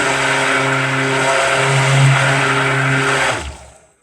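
A blender whirs steadily at high speed, mixing a homemade laundry soap emulsion, then stops abruptly near the end as the motor winds down.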